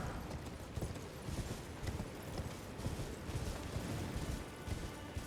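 Horse hooves clip-clop in Elden Ring, a brisk, steady run of hoofbeats with a continuous rumbling ambience, moderately close, with no voices over it.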